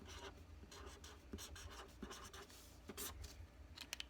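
Close, quiet scratching of a brown pen writing a word on paper, short rhythmic strokes in bursts with brief pauses between letters, no voices.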